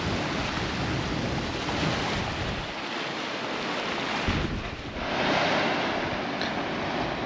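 Ocean surf and gusting wind at a beach campsite on the dunes at the Bay of Fires, a loud continuous roar of breaking waves with buffeting wind noise, easing briefly before swelling again.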